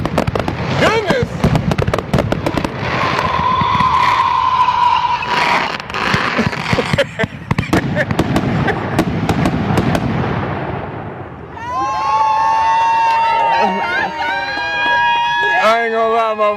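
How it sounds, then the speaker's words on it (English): Expensive fireworks at a birthday celebration: rapid crackling bursts and booms for most of the stretch, then whistling, screaming rockets rising and falling near the end, with people talking and shouting throughout. "These ain't the cheap fireworks, these I can tell. This better than 4th of July fireworks."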